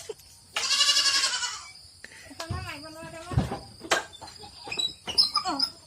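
A goat in a shed gives a loud wavering bleat, followed by several shorter bleats and calls close by, with insects chirping faintly behind.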